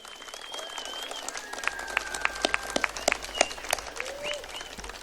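A crowd at a political rally applauds, with a dense burst of clapping and a few whistles rising to scattered sharp claps near the end.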